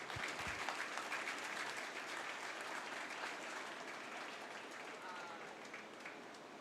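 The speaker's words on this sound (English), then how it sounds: "Go ahead and give them a great round of applause." Audience applause at a county fair cattle show, a steady round of clapping in a large, echoing show space, sustained at moderate distance with faint crowd murmur beneath.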